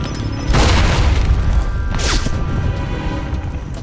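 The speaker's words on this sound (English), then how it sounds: "Still throwing grenades around." In the video game Alpha Protocol, a loud grenade explosion booms with a heavy, sustained rumble, and a second, smaller burst follows about a second and a half later.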